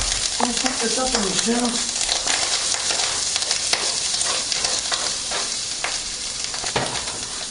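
Fried rice stirred in butter in a hot pan, a loud continuous sizzle with scraping stir strokes throughout, while a person says a few words near the start.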